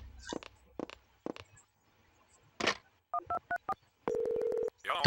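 Telephone keypad dialing from the PlayStation survival horror game Clock Tower: a series of short electronic DTMF tones, each beep distinct, ending in a longer sustained tone, with brief bursts of other game sounds in between.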